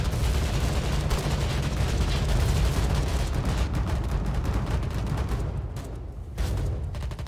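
Dense, continuous gunfire and explosions from a Foxhole frontline battle, a loud sustained barrage of rifle and machine-gun shots with booming blasts, no talk audible.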